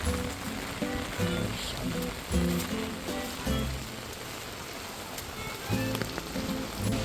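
A heavy downpour beats on a street in Japan, a dense continuous hiss of rain that stays loud throughout, with music playing over it.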